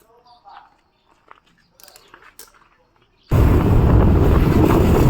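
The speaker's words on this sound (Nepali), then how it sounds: "भाइले बाइक स्टार्ट गर्दैछ" A motorbike engine starts on a dusty road: after a few quiet seconds of faint, scattered sounds it abruptly bursts into a loud, steady rumble mixed with wind noise close to the microphone.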